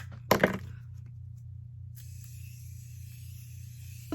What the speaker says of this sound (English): then also my setting spray